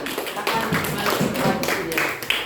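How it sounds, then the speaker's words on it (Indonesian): Children clapping their hands together in an Indonesian primary school classroom with combined grade levels, a steady run of quick claps filling the room at close range, with a little voice mixed underneath. "Tepuk tangan."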